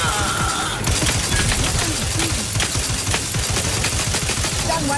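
Gunfire in The Outer Worlds 2 firefight, a dense continuous barrage of rapid shots and impacts layered with game effects, loud and unbroken throughout.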